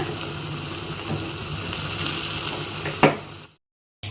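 Homemade hair oil heating in a pan on a stove gives a steady soft sizzle and bubbling hiss that runs for about three seconds, with one brief clatter, before it drops into silence.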